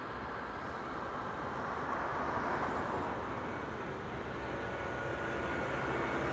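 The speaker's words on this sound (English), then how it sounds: "I am mistaken. It's an Airbus A321." An Airbus A321 airliner passing over Lisbon, a steady broad engine roar that swells slightly mid-way and holds at a distance throughout.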